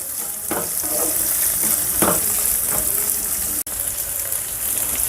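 Onions and green chillies frying on a medium-high flame for tomato bath, a dense, steady sizzle broken by a few stirring scrapes and one brief dropout.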